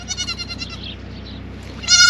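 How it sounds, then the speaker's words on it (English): Young goat bucklings bleating close by, several wavering cries in quick succession with a brief pause and a louder bleat at the end. "So this is Apani's buckling, Cupid's buckling"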